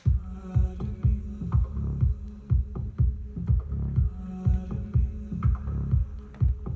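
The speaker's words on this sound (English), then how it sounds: "that sound is made with a Microtonic." Synthesized electronic drums from a Sonic Charge Microtonic thump out a steady groove, punchy low kicks with clicky hits layered over a droning bass hum, no voices.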